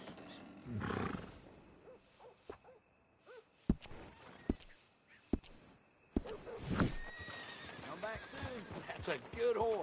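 A horse whinnies and snorts in Red Dead Redemption 2 on PS4, with hooves clip-clopping and scattered sharp knocks, then a longer neigh near the end, all fairly close and clear amid game ambience.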